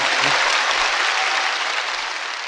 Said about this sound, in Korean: 대단한 박수를 받아 마땅한 분이고 제가 보기에는 4대강 박수 주세요.